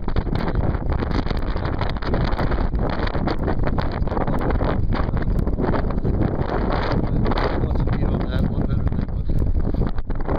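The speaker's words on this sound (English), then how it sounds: "I don't know if you can hear because of the wind" Strong outdoor wind buffeting a microphone on a cold day near the road, a loud continuous roaring rumble with gusty fluctuations that lasts throughout and drowns out other sound.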